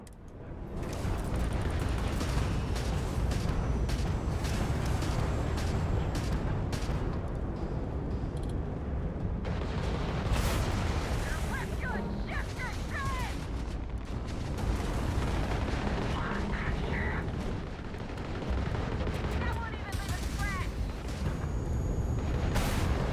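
Spaceship with failing hull exploding in the space game Starfield: loud sustained booming blasts and rumbling detonations, dense and continuous, with no talk.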